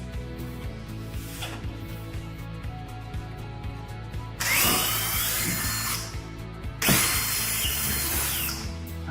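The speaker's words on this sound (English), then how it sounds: "We're gonna drill our holes for our wall anchors" A power drill whirs in two loud bursts, each lasting a couple of seconds, drilling holes in a wall for wall anchors, over a low steady background hum.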